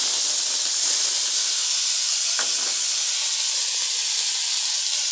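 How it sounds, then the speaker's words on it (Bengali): Onion paste and ginger paste hitting hot oil in a pan give a steady, loud broadband hiss of sizzling that holds for the whole stretch, with a brief scrape partway through. "এখন আমি আগে পেঁয়াজ বাটার আদা বাটাটা দিয়ে দিচ্ছি"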